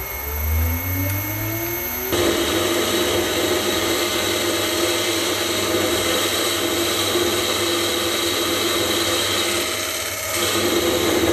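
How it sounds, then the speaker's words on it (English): A mini lathe upgraded with a 3HP motor spinning up and then turning mild steel with a new insert at a 1mm cut depth, a rising motor whine followed by a steady, loud grinding machining hum with no talking. "So I've chucked in a piece of mild steel and I've set it up with a brand new insert. So let's try 1mm."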